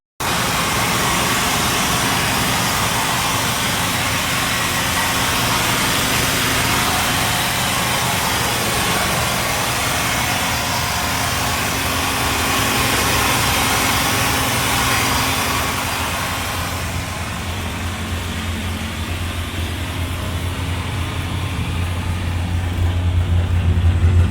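A classic Chevrolet Corvette V8 engine gives a steady, loud rumble continuously for the whole stretch, a deep idle with a broad hiss on top and no voices.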